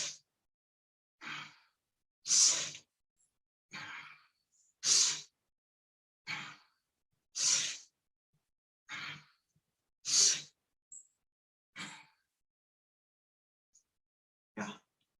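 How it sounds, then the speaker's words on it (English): Slow, deep breaths during gentle yoga exercise, about a dozen separate breathy exhales and inhales spaced a second or so apart, close and clear, with silence between them. "Breathe in as you go back, breathe out as you come forward"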